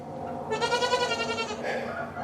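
A goat in a farm building gives a single loud, wavering bleat close by, lasting about a second, against a quiet background.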